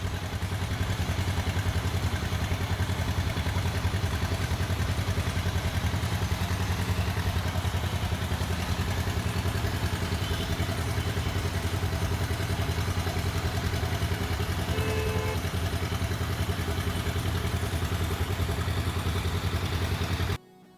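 Motor-driven pump drawing drain water from a dammed channel at an outdoor work site, a steady loud mechanical drone with faint clatter running unbroken until it cuts off at the end.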